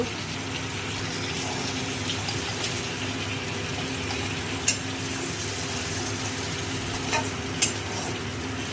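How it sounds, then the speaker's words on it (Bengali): A hilsa fish head fries in oil in a pan, making a steady, close sizzle that bubbles on evenly throughout, with a few small knocks of utensils and no talking. "ওই যে মাছটা ভাজা হচ্ছে, মাছের মাথাটা ভাজা হয়ে গেছে, তুলে ফেলবো।"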